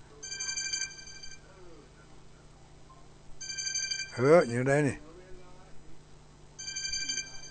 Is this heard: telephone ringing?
yes